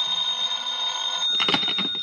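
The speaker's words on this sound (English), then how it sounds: "the phone rang." Old-time telephone bell ringing in a detective radio drama, a steady electric ring that swells louder and busier near the end, with no talk over it.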